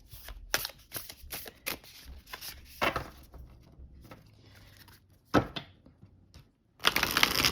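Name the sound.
shuffling Nest of Light oracle cards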